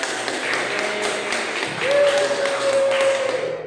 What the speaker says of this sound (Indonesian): beri tepuk tangan untuk Adi.